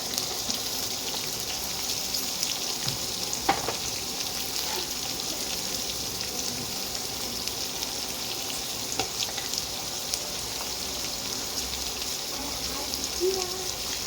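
Onions frying in oil with curry leaves and green chilies for a carrot and potato fry, an even, fairly quiet sizzle with a few faint pops and stirs, a voice speaking intermittently over it.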